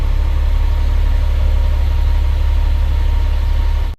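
Diesel engine of a Caterpillar 950H wheel loader with a low-power fault, running at a steady, loud, deep hum throughout before cutting off abruptly at the end, with no talk.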